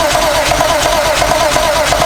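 A swapped BMW ZHP engine runs at its first start-up with a steady, loud mechanical drone and a rapid rhythmic pulsing, close by and continuous for the whole stretch.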